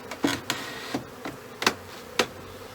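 Honey bees hum steadily in the background while several sharp knocks and taps land at irregular intervals close by during a transfer between long hives.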